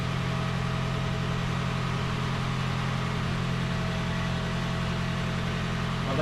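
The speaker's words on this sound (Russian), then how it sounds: "движок сервисно поработает." A Toyota Harrier hybrid's engine idles steadily while warming up, a constant low hum that stays even and unbroken throughout, with no voices.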